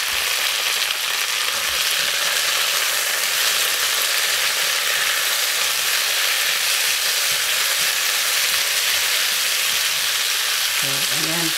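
A tomato goes into a frying pan with pork chop bone and black beans, and everything sizzles and fries in a loud, constant crackle. The stirring is faint underneath, with no break in the sound.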